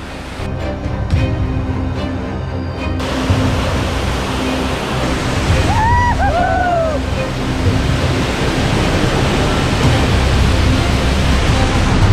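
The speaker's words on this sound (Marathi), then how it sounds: "आणि हा बघा सगळ्यात मोठा धबधबा त्याचं नाव आहे सवतकडा" Savatkada waterfall at Chunakolvan in the Konkan, a loud, unbroken roar of rushing water close by, with a brief high whistle partway through.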